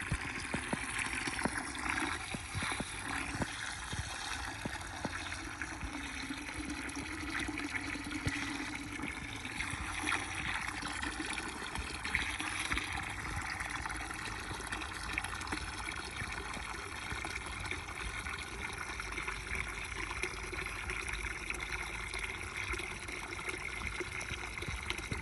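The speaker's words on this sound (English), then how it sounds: "Now we're gonna fill this bucket up about 3/4 full of water" Water runs steadily from a hose into a bucket packed with comfrey leaves, a continuous splashing trickle that lasts throughout with no speech.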